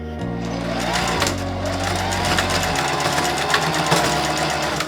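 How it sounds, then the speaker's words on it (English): A sewing machine stitching denim for a scrunchie, running in a fast, steady stitching burr, close and loud, starting and slowing briefly before continuing without pause. "I'm going to stick it under the foot of the sewing machine."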